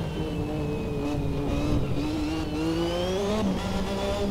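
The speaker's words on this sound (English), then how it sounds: "And of course, with Senna's driving technique with blipping the throttle," Lotus 98T turbo Formula One engine howls loud and close as the throttle is blipped, its pitch dipping and climbing in repeated surges over a steady rasping drone.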